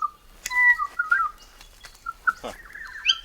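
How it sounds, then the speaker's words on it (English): An Eastern spinebill in the Australian Blue Mountains gives a series of clear, high whistled notes and short chirps, close and fairly loud, with other faint bird sounds behind. "Eastern spinebill."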